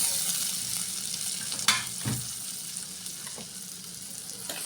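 Water poured into a hot pan of cumin paste and pond fish bursts into a sharp hiss, then settles into a steady bubbling sizzle with a few stirring clatters, close and without speech.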